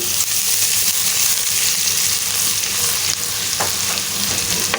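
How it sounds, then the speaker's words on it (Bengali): Onions frying in hot white oil in a pan give a loud, continuous sizzle with occasional stirring scrapes, close and steady with no voices. "পেঁয়াজটা একটু ভেজে নিব"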